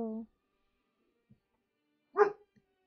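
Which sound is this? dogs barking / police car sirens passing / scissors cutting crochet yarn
dogs barking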